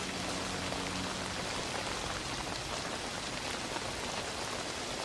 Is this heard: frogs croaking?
no